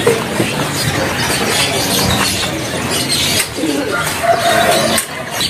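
Caged canaries kept as stock in a bird shop kiosk chirp and trill in a dense, continuous chorus. The sound is loud and near, with the calls overlapping throughout.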